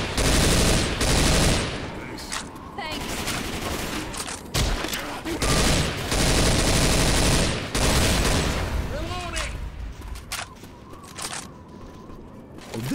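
Rapid bursts of gunfire ring out in Left 4 Dead 2 as survivors shoot down a barricade, loud automatic volleys broken by short pauses, with voices calling out between the shots.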